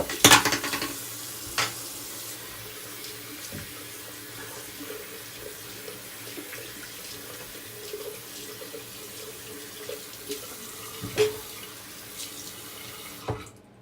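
Tap water runs into a sink while a shaving soap puck is rinsed under it, a steady soft splashing and hiss lasting throughout with a few louder knocks and clinks scattered along.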